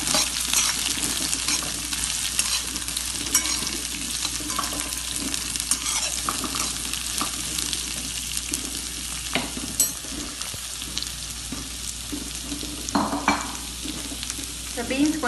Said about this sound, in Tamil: இப்போ பீன்ஸ் கொஞ்சம் வதங்கட்டும்.